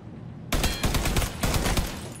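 Rapid volley of gunshots in Mafia III, a quiet lead-in broken by a loud, dense burst of repeated cracks that keeps firing in uneven clusters for nearly two seconds, close and forceful.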